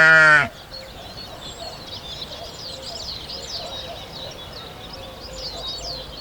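A farm sheep lets out one loud, close bleat at the very start, then fades into a quiet outdoor background of scattered bird chirps.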